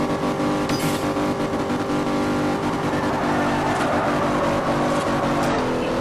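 A race car in the video game Forza Horizon drives hard through a goliath race, its engine roaring steadily with rising and falling revs and occasional tire noise, loud and close throughout.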